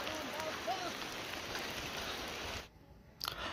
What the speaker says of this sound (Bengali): চারপাশে বৃষ্টি পড়তেছে